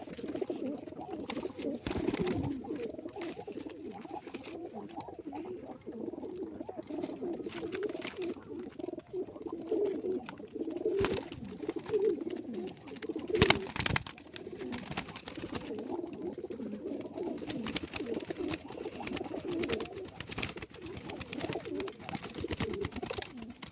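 Pigeons coo continuously in a low, throaty chorus while drinking water, close by, with occasional wing flutters and soft knocks, and no talking.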